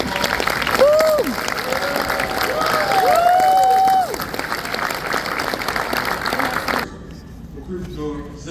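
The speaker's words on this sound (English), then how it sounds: "let's give it a round of applause" A large audience applauds at a fire academy graduation ceremony, loud dense clapping with some cheering and whistles for about seven seconds before cutting to quieter room sound with faint talk.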